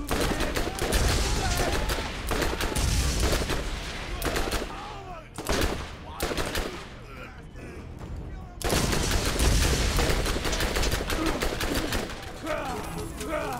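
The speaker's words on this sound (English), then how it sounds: "let's try out this new submachine gun" Submachine gun fire in the video game Borderlands, with rapid bursts that come in dense, loud stretches, drop off briefly, then resume in heavy sustained volleys.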